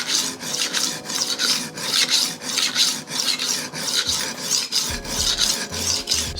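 A chef knife is ground back and forth on a diamond sharpening stone, a steady repeated rasping scrape with regular strokes, close and fairly loud, with no talking.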